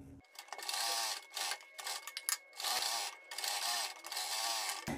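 Sewing machine stitching two cut pieces of kurti neck fabric together around all sides, running in several bursts of steady whirring with short pauses between, close and alone.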